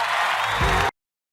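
Studio audience at the Turkish TV talent show O Ses Türkiye applauding and cheering as a jury member is welcomed onto the stage, a dense, loud burst of clapping and whoops that cuts off abruptly after under a second.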